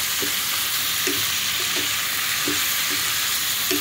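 Butter shrimp with onions sizzles steadily in a pan while a spoon stirs it, making soft scraping strokes at an uneven rhythm over the constant frying hiss.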